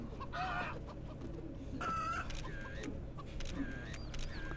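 A chicken in The Sims 3 Pets game clucks and squawks in several short bursts over a busy game background, with no talk.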